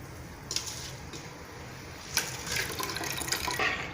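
Water splashes and trickles into a cooking pot of soaked toor dal and rice, quiet and close, with a couple of brief louder pours.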